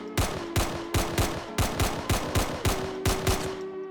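Hip-fired gunfire in a Roblox survival game, a rapid string of about nine sharp, evenly spaced shots with a ringing tone under them, loud and close.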